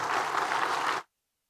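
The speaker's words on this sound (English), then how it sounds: "Clap it up one more time, everybody." An audience at a Black August event applauds, a dense burst of clapping that cuts off abruptly after about a second.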